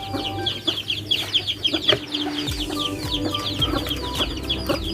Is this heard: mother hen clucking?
yes